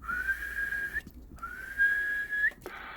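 A person whistles two long, steady held notes, each ending in a brief upward flick, with a short gap between them, fairly close and clear over a faint hiss near a CB radio.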